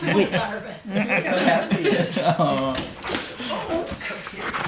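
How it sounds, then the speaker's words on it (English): A couple of dogs whimper and yip as they come out to greet visitors, their excited whines mixed with people talking and chuckling close by. "a couple of dogs, one Harry McClary and one Hercules Morse, come out to greet us"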